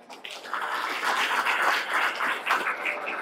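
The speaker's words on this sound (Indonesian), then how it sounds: "Beri aplaus buat guru-guru saya." A workshop audience applauds their teachers, a burst of dense clapping that swells quickly after a quiet start and holds steady for a few seconds.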